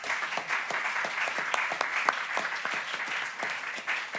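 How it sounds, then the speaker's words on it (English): Audience at a city council candidate forum gives steady applause, a moderate crowd of individual claps rattling evenly through the whole stretch in an indoor room. "Give them a round of applause, please."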